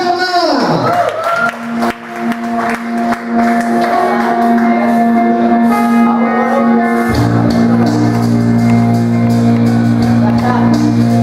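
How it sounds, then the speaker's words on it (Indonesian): A stand-up comedy audience bursts into loud clapping, whoops and cheers as a comedian takes the stage, with walk-on music playing throughout and the crowd noise staying dense and close. "Beri tepuk tangan meriah untuk Sugeng Jamal"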